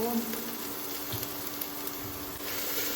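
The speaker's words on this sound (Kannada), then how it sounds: "ಸೊ ಸ್ವಲ್ಪ ಜಿಂಜರ್ ಗಾರ್ಲಿಕ್ ಪೇಸ್ಟ್, ಅದನ್ನು ಹೀಗೆ ಮಿಕ್ಸ್ ಮಾಡ್ಕೊಳ್ಳಿ" Ginger garlic paste sizzles in a hot pan as it is stirred, a steady broadband frying hiss lasting the whole stretch with faint scraping underneath and no talk.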